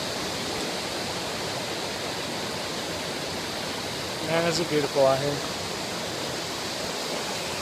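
A river flows steadily beneath a fallen tree lying across it on a creek off the trail, a constant broad rushing wash of water close by, with someone briefly speaking over it midway.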